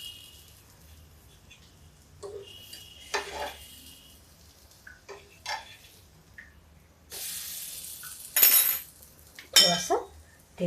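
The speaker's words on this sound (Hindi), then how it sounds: "इसको हम ऐसे कांटे से हल्का हल्का सा पलट देते हैं।" Eggplant slices frying in a pan are turned over with a fork, giving soft scrapes and clinks against the pan over a faint sizzle, with a few louder scrapes near the end.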